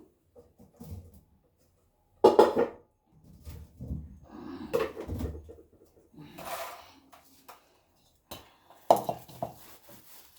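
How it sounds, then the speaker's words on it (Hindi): Sesame seeds and peanuts tipped into jaggery in a pot, heard as a few sharp clattering bursts and scattered clinks, with a voice speaking at times in between. "तिल, मूंगफली और तिल डालती हूँ, मूंगफली डालती हूँ"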